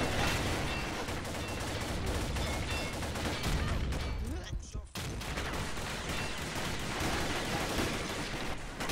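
Video game shotgun fire mixed into a dense, loud wall of continuous battle gunfire, with a brief dip near the middle before the barrage resumes.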